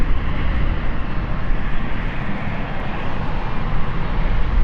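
At London City Airport, a steady broadband roar from an ATR aircraft holds the runway, continuous and fairly loud with no voices over it.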